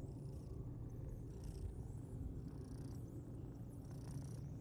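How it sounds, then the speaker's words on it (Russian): A kitten purrs in the video game Broken Veil, a steady low rumbling purr that continues without a break, close and soft, with no speech. "мурлыкает маленький"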